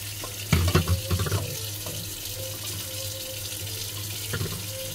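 Water runs steadily from a freshly cleaned household water filter, a continuous close hiss with a burst of splashing early on. No talking.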